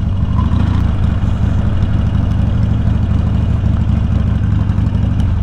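A budget Harley-Davidson stunt bike idling high, a loud, steady low engine drone with a constant rough throb that does not change throughout.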